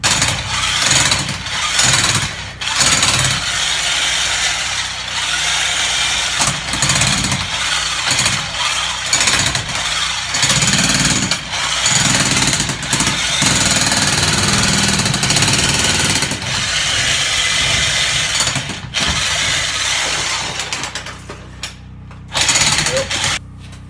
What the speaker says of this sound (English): So now I have to run this big ass fucking jackhammer